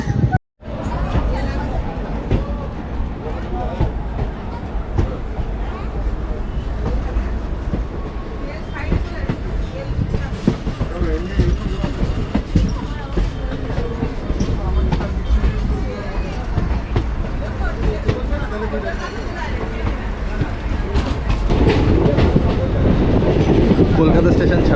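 Kolkata to New Jalpaiguri Intercity Express train running on the Dankuni line after Dum Dum, a steady rolling rumble with rhythmic clickety-clack throughout, heard from inside the carriage with faint passenger babble.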